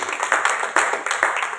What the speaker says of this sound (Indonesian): Boleh lagi kita tepuk tangan yang terbaik.